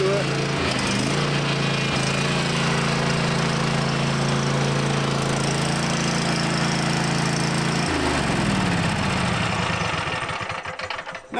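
Craftsman riding mower engine running steadily and loud, a constant droning hum with a brief shift in pitch near the end before it cuts off.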